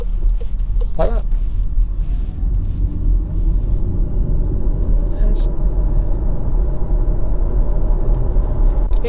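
Cabin of a Volkswagen e-Golf electric car on the move, a constant low road rumble and soft wind noise with no engine sound, steady throughout while someone talks over it.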